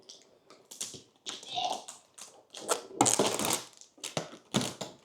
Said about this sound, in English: let's take some of the tape off